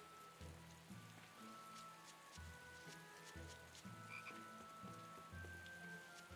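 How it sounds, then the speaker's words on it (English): A frog croaks repeatedly in rhythmic low bursts beside a creek in the game Tales of Berseria, set against a soft steady patter of rain and quiet ambient tones. "The frog noise."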